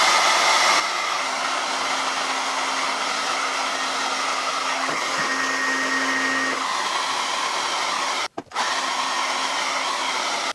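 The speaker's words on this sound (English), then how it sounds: "Put my brush underneath and just blow dry it this way." A hair dryer roars steadily up close while hair is blow-dried over a round brush, its airflow briefly changing pitch and cutting out for a moment near the end.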